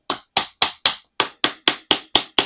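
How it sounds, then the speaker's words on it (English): A hammer taps plastic end holders onto the rods of a tall 9-tier shoe rack, ten sharp, evenly spaced knocks in a steady rhythm, close and fairly loud with no talking. "Now we can take our hammer and make sure that they're nice and tight."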